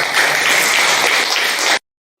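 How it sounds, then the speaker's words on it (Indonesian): Students in a classroom break into loud, dense applause that stays strong and even for under two seconds before stopping abruptly. "Oke, tepuk tangan saja semuanya."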